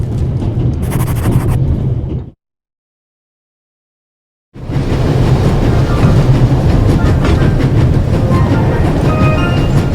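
A train racing at full speed in the video game The Raven Remastered gives a loud, steady rumble and rattling clatter that cuts out completely for about two seconds, then resumes just as strongly.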